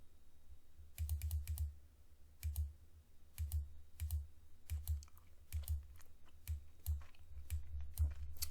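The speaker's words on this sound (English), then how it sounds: "Let's type in board game and see what happens." Fingers tap out a short search on a computer keyboard, quick clusters of close, crisp keystrokes separated by brief pauses, with no talking.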